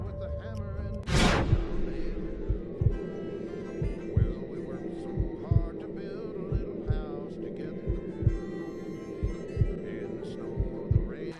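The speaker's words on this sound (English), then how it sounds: "John simply has a heartbeat" A slow, steady heartbeat from the dead-eye mode in the video game Red Dead Redemption 2 thumps in an even rhythm over a low droning hum, after a brief whoosh at the start.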